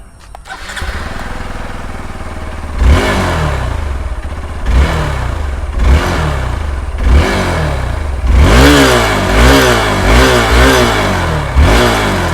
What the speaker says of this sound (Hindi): एग्जॉस्ट नोट सुना दो।